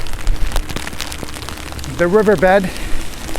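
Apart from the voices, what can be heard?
heavy rain while riding an Inmotion V14 electric unicycle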